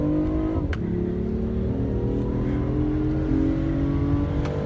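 A BMW i8 sports car accelerates on a test drive, heard from inside as a loud, continuous engine hum climbing steadily in pitch after a shift, with a faint click or two.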